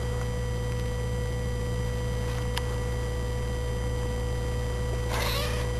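Cat meowing indoors, faint brief mews over a constant electrical hum, with a short scratchy rustle near the end.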